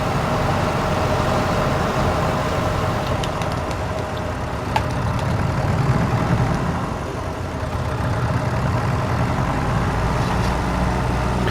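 A vineyard vehicle fitted with a sprayer drives among grapevines, producing a continuous loud, low engine drone with a steady mechanical rumble that stays constant throughout and has no talking over it.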